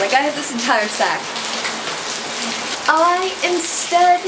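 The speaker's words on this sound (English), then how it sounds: "then it started pouring like crazy" Heavy rain pours outside in Mexico as a steady hiss heard from indoors, while a person talks over it throughout.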